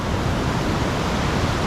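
Punchbowl Falls, a waterfall in New South Wales, roars as a dense, continuous rush of falling water heard close and alone.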